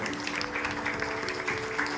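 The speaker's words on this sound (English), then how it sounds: "Once again, loud applause, parents." Parents applaud during a school annual general body meeting, a steady, dense clatter of clapping from a hall audience that holds even throughout.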